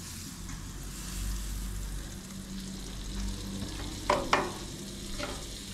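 Murray cod fillets frying in a buttered pan give a steady, moderate sizzle, with a few sharper spits and crackles near the end.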